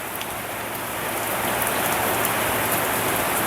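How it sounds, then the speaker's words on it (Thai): Steady rain falls outdoors in Phatthalung, Thailand, a dense, even hiss of drops on surfaces that holds at a constant close level for the whole stretch, with no voices. "กับสายฝนโปรยปลายนะไปสวยเลยนะครับ"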